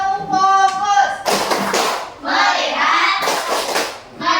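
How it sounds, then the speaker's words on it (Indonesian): Schoolchildren in a classroom perform a focus clapping routine, with chanted voices alternating with bursts of sharp group claps in short, rhythmic blocks. "Kita melakukan tepuk fokus"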